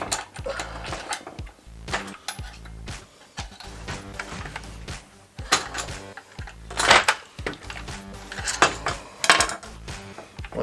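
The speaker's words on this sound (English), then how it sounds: "take your spark plug, screw it back in there" A spark plug being screwed into a Husqvarna 450 chainsaw, with close metallic clicks, rattles and clinks of a tool in irregular bursts, no talking.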